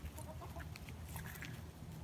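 Chickens cluck softly in a backyard chicken yard between two homes, scattered faint calls over a low outdoor background with no talking.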